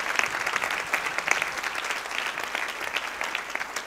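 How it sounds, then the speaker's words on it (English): Warm audience applause for a guest speaker at a finance talk on Japan's economy, a dense, steady patter of many hands clapping throughout, moderately loud and uninterrupted by speech. "round of applause"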